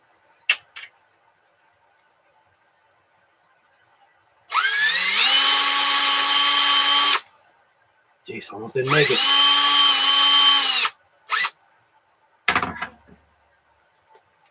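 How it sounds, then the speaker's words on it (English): A power drill bores out a part for a Traxxas XMAXX RC car in two loud, sustained bursts of about three and two and a half seconds each, with short clicks and handling noises between them and a brief remark spoken beforehand. "it does look like, yes, it does look like that is supposed to be drilled out."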